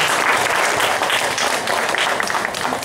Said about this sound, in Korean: 1단계부터 하신 분들 존경하는 마음으로 박수 좀 한번 쳐주세요